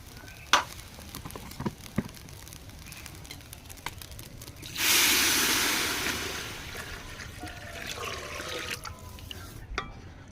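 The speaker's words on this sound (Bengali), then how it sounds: "এখন আমি এখানে জল অ্যাড করে দেবো" Water poured onto sautéed rice in a hot pot for khichuri bursts into a loud, close sizzle that swells suddenly and slowly dies back to gentle bubbling, with light scattered clicks of utensils before it and no talking.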